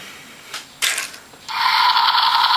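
A small plastic panel on an Armada Optimus Prime toy flips up with a couple of sharp clicks, followed by a sustained high-pitched electronic toy sound close by.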